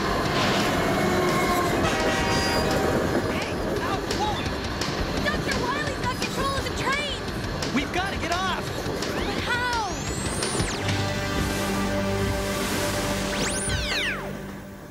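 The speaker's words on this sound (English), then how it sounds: "This train will take us back to the lab safely." Cartoon train from the Mega Man animated series: a steady rumble with dense mechanical noise, while sharp horn blasts sound twice near the end, loud and close.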